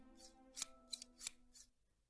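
Scissors snip in a video game, several crisp metallic cuts in an uneven rhythm over a quiet tonal background hum, fading out at the end.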